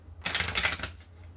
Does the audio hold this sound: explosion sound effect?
no